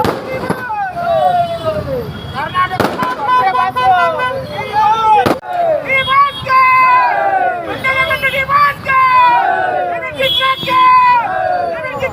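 Fans in Mandya loudly chant and cheer for actor Darshan, overlapping voices rising and falling in shouted calls, with a few sharp bangs among the crowd.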